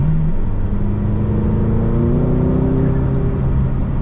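A McLaren GT in sixth gear accelerates hard from about 45 mph. The engine note swells loud and steady as its pitch climbs smoothly over several seconds, heard from inside the car with no speech.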